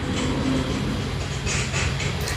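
A train sound effect triggered by a livestream gift plays as a steady, loud rumble with clattering rail noise, continuous through the short moment, without talk.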